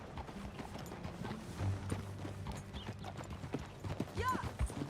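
Horse hooves clip-clop steadily in Red Dead Redemption 2 as the rider moves along at a walking pace, joined by a brief whinny near the end, with low ambient rumble and faint game sounds underneath.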